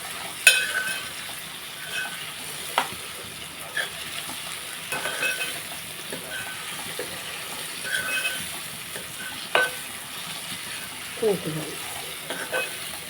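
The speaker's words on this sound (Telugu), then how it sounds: "ఇదిగోని ఒకసారి మనం కలుపుకున్నాం దానిమీద ఎంత ఉడికిపోతుంది" Bottle gourd curry with buttermilk cooks in a pan while it is stirred, giving a low simmering bubble broken by scattered spoon scrapes and clinks against the pan.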